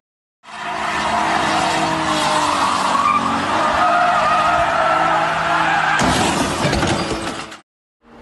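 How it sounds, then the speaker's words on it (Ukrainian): Drift cars screech their tires in a loud, sustained squeal with roaring engines close by, the noise holding for about seven seconds before a sharp change near the end and then cutting off. "Вереск, гальм, нестерпні децибели двигунів та несамовитий рик мотоциклів"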